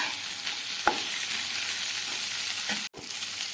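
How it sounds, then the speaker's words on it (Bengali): Potol and potatoes fry on high flame, a steady close sizzle with a stir or scrape near the start and a brief cut just before the end. "এবারে আমি হাই ফ্লেমে দিয়ে দিচ্ছি যাতে করে একটু ভাজা ভাজা হয়ে যায়"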